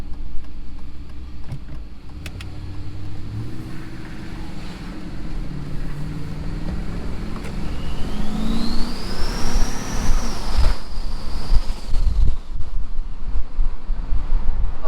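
An LS V8 in a Chevrolet Avalanche with a swapped cam idles steadily with a low rumbling burble, rising somewhat louder toward the end amid wind noise.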